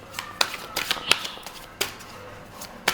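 Tarot cards riffled and drawn one at a time, giving sharp papery snaps and flicks spaced irregularly against a quiet background, close and fairly soft.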